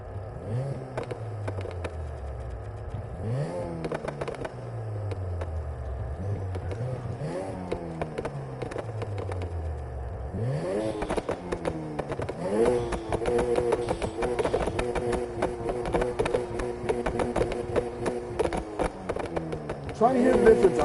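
Car engine in the Need for Speed Heat video game with a tamed, subtle backfire setting revs up and down in repeated sweeping pulses, then holds a steadier high drone with crackling pops, while a voice talks over it.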